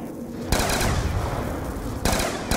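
Pack-a-Punched gun firing in Black Ops 2 Zombies, a continuous loud burst of rapid automatic fire that breaks off briefly and then starts again, with no one speaking.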